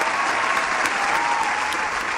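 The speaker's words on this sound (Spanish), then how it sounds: "Fuerte el aplauso para la Popu, por favor." Studio audience applause on a Spanish-language show, a loud, dense, continuous wash of clapping with a few sharper individual claps, steady throughout.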